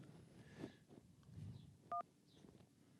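A single telephone keypad button tone sounds while navigating an automated phone menu, loud and brief, about a tenth of a second, over a murmuring line with faint background noise.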